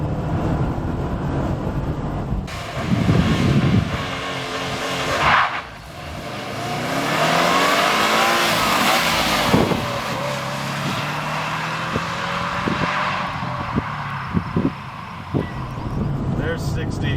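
A 2013 Subaru WRX pulls away from a launch with traction control on, its engine rising through a missed shift with one audible gear change. Road and cabin noise sit beneath it, and people speak over the car.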